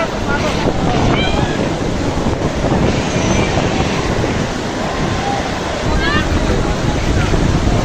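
Loud, steady roar of sea waves breaking on the main point of Cox's Bazar beach, with wind buffeting the microphone throughout.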